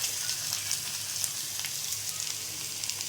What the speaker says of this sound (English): Add the potatoes at this point